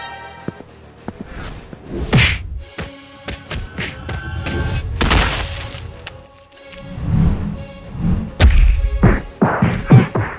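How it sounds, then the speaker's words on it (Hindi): Cartoon fight from an animated Hindi detective series: a woman lands a hard kick on a man, heard as several sharp whacks and dull thuds mixed with quick whooshes, loud and close, with no talking. "आलिया एक जोरदार किक मारती है"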